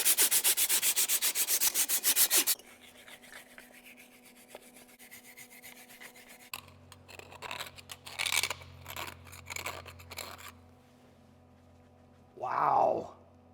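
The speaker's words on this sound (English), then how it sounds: "Try to clean up some of this rust." Rust is scrubbed off a moldboard plow in a dense burst of fast, rasping strokes, then quieter intermittent scraping and rubbing with a low hum, ending in a short loud scrape.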